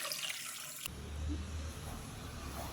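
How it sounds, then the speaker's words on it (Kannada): Water runs and splashes steadily in a kitchen as raw rice is rinsed before making rice barfi, a continuous close wash with a sharp change in sound partway through. "ಇದನ್ನು 1-2 ಬಾರಿ ನೀರು ಹಾಕ್ಕೊಂಡು ಚೆನ್ನಾಗಿ ತೊಳ್ಕೊಳ್ಬೇಕು"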